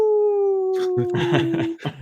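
A person imitates a wolf's howl with one long sustained tone, then breaks off into a short burst of laughter and talk.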